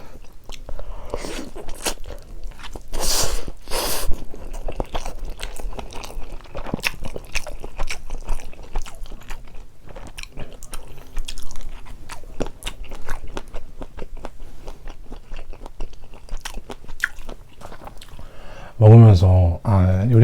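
Spicy carbonara buldak fried noodles with Spam and Vienna sausage being eaten up close, with steady slurping, chewing and crunchy bites throughout and a brief louder burst near the end.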